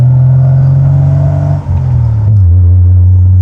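A Jeep's engine drones loudly and steadily at around 2,000 RPM while driving on a highway, the pitch dipping briefly and then settling at a lower, rumbling hum.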